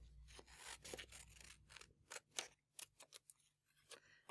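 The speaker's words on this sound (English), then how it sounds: "And then using my paper scissors, I'm going to cut out the shape following the line." Paper scissors cut a paper shape along a drawn line for patchwork quilting, several quiet close snips and slides in quick succession over a low steady hum, with no talking.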